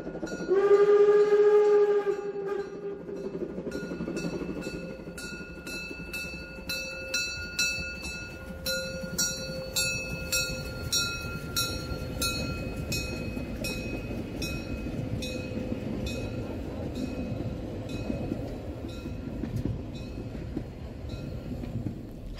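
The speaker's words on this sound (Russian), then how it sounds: "Посмотрим паровоз на видео." Steam locomotive train in an animated educational cartoon: a loud whistle blast opens, then steady rumbling chug and rhythmic clatter of wheels continue throughout, close and full, with no talk.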